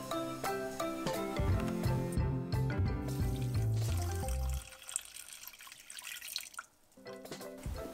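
Three quarters of a cup of water pours into a cold pot for mulled wine, a quiet trickling and splashing over soft background music.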